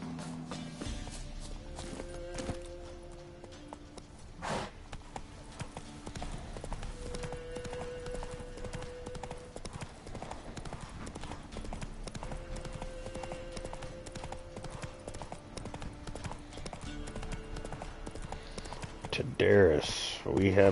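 Roach the horse in The Witcher 3 on the Death March difficulty: rhythmic clip-clop hoofbeats trotting and galloping steadily throughout, with a brief whinny, game ambience and tones layered over them, and someone talking at points.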